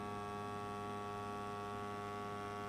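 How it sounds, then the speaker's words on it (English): An electric motor in a prosthetic leg socket pumps a vacuum, a steady faint hum that stays constant throughout. "allow the motor to create the vacuum, then it'll stop"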